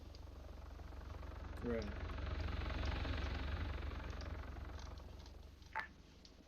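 A military helicopter in a video game drones steadily under the mix, its engine and rotor hum rising slightly mid-clip and then easing, with a short spoken word and a brief sharp blip over it.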